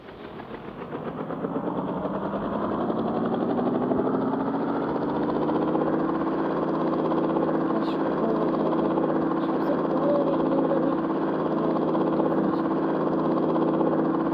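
A helicopter spawned by a cheat code in a video game spins up over the first couple of seconds. It then settles into a loud, steady rotor and engine drone that holds to the end.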